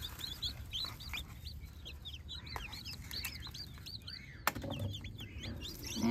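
Chickens cluck and call repeatedly around newly hatched chicks on a farm, with steady busy farmyard clucking throughout, one sharp knock near the middle, and no talk.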